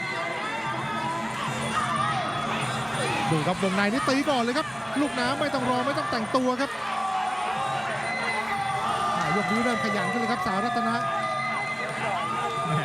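A boxing crowd at an LWC Super Champ Thai boxing bout cheers and shouts continuously and loudly, while an excited commentator talks rapidly over the noise throughout.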